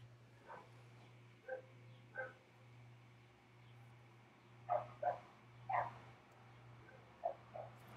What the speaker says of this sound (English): Hear somebody's dog barking out there.